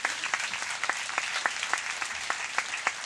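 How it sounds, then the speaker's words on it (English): A convocation audience at Cal State Northridge applauds steadily, dense clapping running the whole stretch with a few sharper claps standing out. No one speaks. "Give yourself all a round of applause."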